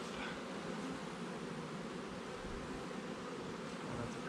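Dense, steady buzzing of many bees swarming around an open beehive during an inspection, a continuous close drone filling the whole stretch without speech.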